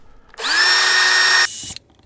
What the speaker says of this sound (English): we first should drill some pilot holes to make it easier.